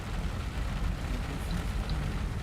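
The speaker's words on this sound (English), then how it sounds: "And there's the rain." Steady rain hiss in a flight simulator cockpit, a Zibo Mod 737 on a Sydney to Brisbane flight, forming a constant, even wash of noise with a low rumble beneath and no voices.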